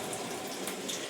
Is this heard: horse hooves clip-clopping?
no